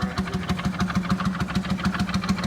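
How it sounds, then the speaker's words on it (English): A Slavin two-stroke hot-bulb diesel engine on a narrowboat runs with a steady, rapid thudding beat, close and even, repeating about five times a second under a rattling mechanical clatter. "Slavin diesel. They're started up with a hot bulb, heat that up with a blow lamp, and they're a 2-stroke engine"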